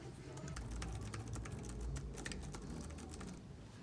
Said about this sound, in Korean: DSM 플립은 이렇게 타이핑 시 안정적이게 흔들림이 없습니다.